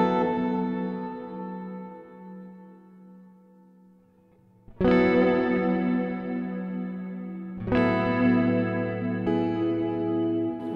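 Distorted electric guitar chords through a Chase Bliss CXM 1978 hall reverb ring out with a long, spacious reverb tail, struck three times with each chord swelling and decaying slowly.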